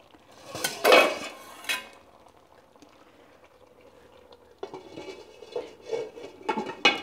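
A lid set onto a pot of tapioca and fish dum biryani cooking in coconut oil gives a couple of close metallic clanks, then quieter clinks and rattles.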